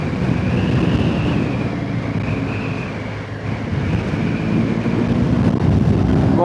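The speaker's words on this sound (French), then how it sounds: "il y a un vent de fou" Strong wind buffets a DJI Mic Mini clip-on microphone during a motorcycle ride, a loud, steady roaring rush with engine and road noise underneath, dipping briefly midway.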